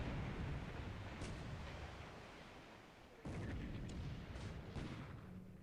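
Naval bombardment gunfire in the War in the Pacific strategy game, low rumbling booms with a few sharper bursts, a sustained muffled roar that drops then swells again, no talk.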